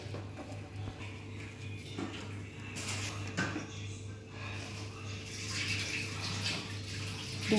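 Milk pours into a pot of simmering water while ginger tea is being made, a steady liquid stream over a low kitchen hum, rising slightly near the end.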